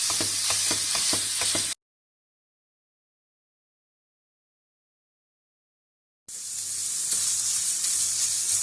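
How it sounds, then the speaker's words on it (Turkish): Ground meat fries in sunflower oil in a pan, a loud, close, steady sizzle with light stirring scrapes, broken by a few seconds of silence before the sizzling resumes. "İçerisine kıymamı ilave ediyorum. Öncelikle kıymamı iyice kavuruyorum."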